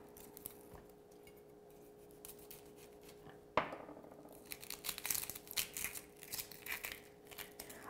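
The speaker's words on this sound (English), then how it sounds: "I'm going to go ahead and chop the onion first using our manual food processor" Onion chopped in a manual food processor, quiet handling clicks, then a sharp snap followed by rapid, irregular clattering and crunching bursts of the blades working, close and moderately loud.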